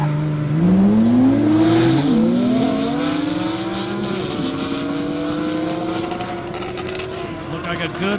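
A Nissan GT-R, an older high-mileage race build, launches hard in a 200+ mph airport drag race. Its engine note climbs steadily through the gears, loud and close at first, then strains on as it pulls away, with a commentator talking over it.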